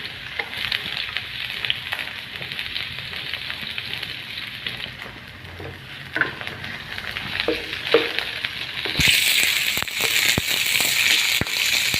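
Garlic and onion frying in a pan for native chicken adobo, a steady close crackling sizzle with scattered pops that grows brighter and louder near the end.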